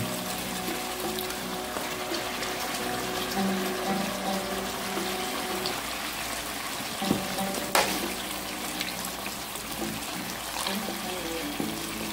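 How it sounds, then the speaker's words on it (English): Beef broth poured into a pot of potatoes for a Jamaican-style brown stew, a continuous soft liquid rush that runs steadily at low volume with a couple of small clinks near the end. "That is the beef broth I'm adding."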